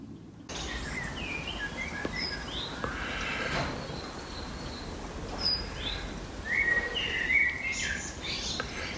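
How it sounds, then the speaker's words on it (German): Birds chirp outdoors in short, scattered calls and tweets across the whole stretch, set against a steady wash of background noise, with no one talking. "Die Vögel zwitschern"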